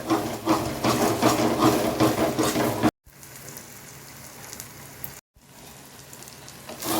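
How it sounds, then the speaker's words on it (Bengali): Lotte fish being stirred in a pan as it fries down in its own oil, a steady close sizzle and hiss broken by two brief silent gaps. "এবার একটু নেড়ে চেড়ে দিচ্ছি।"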